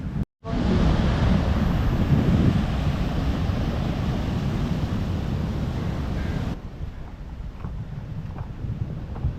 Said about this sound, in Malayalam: അതിഭയങ്കരമായിട്ട് കടൽ ഇവിടെ കയറി വന്നുകൊണ്ടിരിക്കുക